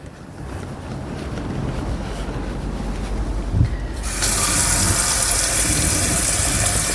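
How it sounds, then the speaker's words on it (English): A plastic basin fills with moderate-temperature water from a tap during a peri-care skills demonstration, a soft wash of running water that turns abruptly louder and brighter partway through as the stream hits harder, steady and close with no talking. "So I'm going to fill the basin with moderate temperature water."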